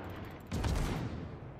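Naval guns firing in World of Warships from the destroyer Kidd, a single heavy booming salvo that swells suddenly and rumbles out over a constant engine-like drone.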